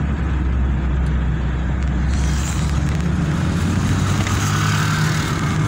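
A 1.0-litre Chevrolet Corsa Wind fitted with a sport air filter drives along, its engine a continuous close droning hum mixed with road rumble and a slight rise in pitch as it pulls.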